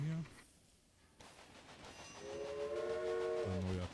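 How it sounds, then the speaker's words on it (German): Train in the railway-building game Railway Empire, a new locomotive setting off: a steady rolling rumble with a sustained, wavering two-tone whistle sounding through the second half, then a deeper horn note at the end, fairly loud and close. "Ein neuer Zug."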